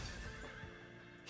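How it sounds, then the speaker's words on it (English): A horse whinny from a video game character, quiet and brief, mixed into a dense bed of in-game background sound with a faint trace of hoof-like clatter. "It makes horse noises?"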